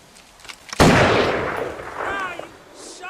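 A single loud gunshot goes off in Grand Theft Auto V, with a sharp crack followed by a long, decaying boom that fades over a couple of seconds.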